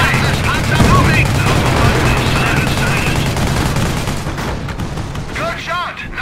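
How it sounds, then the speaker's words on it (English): Dense, heavy gunfire and artillery explosions rage continuously in a Company of Heroes battle at Oosterbeek, loud and close, with shouted radio-style voices under the barrage. "Taking heavy fire"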